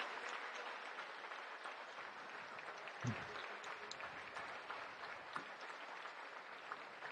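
Steady, dense applause from the Knights crowd at a 2021 TSIAA girls' Division 1 basketball championship, greeting the runner-up team, holding at an even level throughout with a brief louder burst midway.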